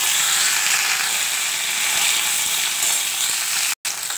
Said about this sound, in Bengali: ভেন্ডি আলুটা দিয়ে দিচ্ছি